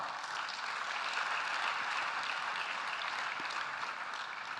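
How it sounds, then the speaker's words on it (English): Applause from a conference audience at a Ghana digital and innovation week event as guests come up on stage, a steady, dense wash of clapping that holds evenly throughout, with no talking over it. "Please, a round of applause as they come up."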